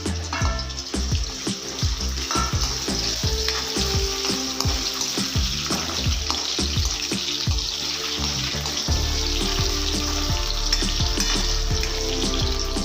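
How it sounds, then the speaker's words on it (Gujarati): Finely chopped potatoes fry in hot oil for a Gujarati palak shaak, a loud, dense, continuous sizzle with crackling pops and occasional stirring clatter, close up and without speech. "આપણું તેલ ગરમ થઈ ગયું છે એટલે જે આપણે બટાકા ઝીણા ઝીણા કટ કરીને રાખ્યા છે પનીરની જેમ આપણે એને ફ્રાય કરી લઈશું"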